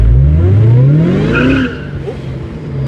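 A Ford Mustang engine roars loudly as it revs and accelerates, rising in pitch, then drops back to a lower rumble.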